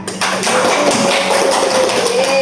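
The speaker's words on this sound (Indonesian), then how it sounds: "kita beri aplaus untuk Dila." A classroom of students claps together for a classmate during a microteaching lesson. The applause is a dense, steady patter of close hand claps lasting a couple of seconds, with no talk over it.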